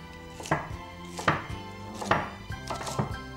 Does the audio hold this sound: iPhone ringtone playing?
no